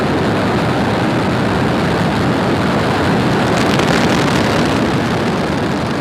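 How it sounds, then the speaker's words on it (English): A SpaceX Falcon 9 rocket lifts off carrying a GPS III satellite, its engines giving a loud, continuous broadband roar that holds steady and swells slightly partway through. "Ignition. Engines full power. And liftoff."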